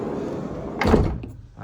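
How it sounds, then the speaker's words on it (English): The passenger-side sliding door of a 2017 Ford Transit Custom 2.0 TDCI Limited van rolls open in one short rumbling slide with a soft thunk at its end, heard close up against steady background noise. "Opening up your passenger side sliding door."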